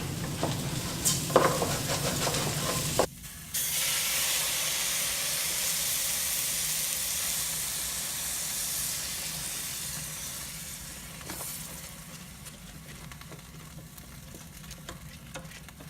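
Risotto rice is stirred in a hot pan with stock, a close sizzling hiss with scraping stirs and a brief break early on, then the sizzle gradually softens.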